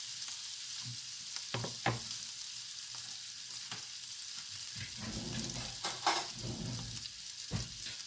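Scallops searing in a smoking-hot pan, giving a soft, continuous sizzle with occasional small spikes of spitting and light movement, fairly quiet and close, without talking.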